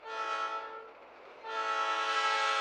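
A train horn blares in the cartoon King of the Hill, a loud harmonic chord sounded twice with a softer dip between the blasts, close and alone with no talking.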